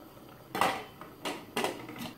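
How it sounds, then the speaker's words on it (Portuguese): Metal pressure cooker lid being handled and closed on the pan while cooking beef stroganoff, giving three or four distinct clanks and scrapes, close and fairly loud, with no talking. "Agora, eu vou fechar essa panela"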